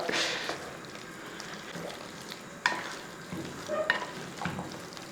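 Boiled tapioca and bones get stirred in a hot pan, with soft scraping and squishing strokes over a faint sizzle, a few sharper knocks of the spoon, close and quiet.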